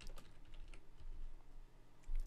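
Keystrokes on a computer keyboard while entering text into a Microsoft Word 2007 table, a steady run of light, quiet clicks over low room hum with no talking.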